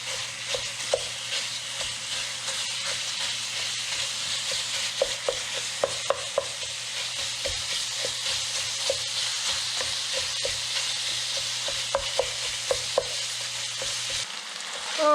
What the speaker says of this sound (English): So what I'm going to do is add the beef mince.